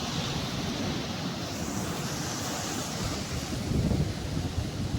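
Sea waves rolling onto the shore, a loud continuous wash of surf with wind buffeting the microphone, swelling slightly near the end.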